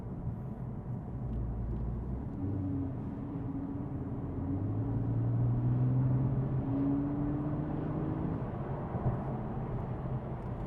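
A Porsche 997.2 Carrera S PDK on the move: a steady, muffled engine drone with tones that rise and fall as it pulls and shifts, carried over road and wind noise.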